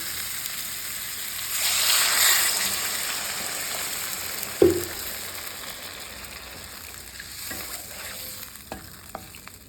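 Water goes into a hot cooking pan with a sharp hissing sizzle that swells briefly, followed by a clank, then softer bubbling and occasional stirring scrapes. No one speaks.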